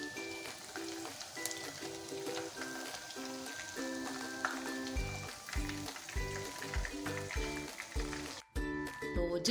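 Fish frying in hot oil, a continuous bubbling sizzle up close, with music playing loudly over it and a brief drop near the end.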